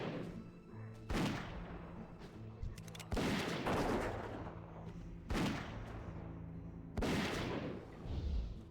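A hunter's Rapid Fire shots in World of Warcraft: a string of heavy booming impacts spaced a second or two apart over a constant game background, with someone talking faintly at times.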